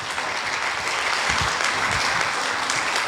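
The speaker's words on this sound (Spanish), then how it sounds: "Dale un fuerte aplauso al Señor, querido hermano y hermana." Church congregation applauding during a sermon, a steady moderate clapping texture with a few low thumps, continuous throughout.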